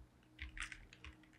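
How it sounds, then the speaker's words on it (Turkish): A search typed into Google on a computer keyboard, a short run of soft, close key taps in small clusters over a quiet background hum, with no voices. "Google'a bunu yazıyorum."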